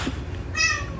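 A Siamese, Himalayan-type cat gives a single short meow, a brief, fairly clear cry over low background hum.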